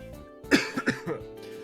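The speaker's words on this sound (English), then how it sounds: "Starting to cough a lot" A person coughs several times in quick succession, close and fairly loud, the bursts tapering off after the first harsh one.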